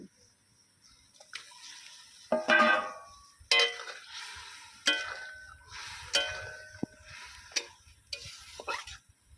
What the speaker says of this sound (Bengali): এবারে আমি এর মধ্যে দিয়ে দেবো ভেজে রাখা পটল